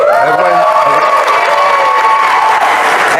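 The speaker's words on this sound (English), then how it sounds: "You all can clap." A television studio audience claps and cheers loudly and steadily, a dense wall of applause with shouting voices mixed in, lasting the whole stretch.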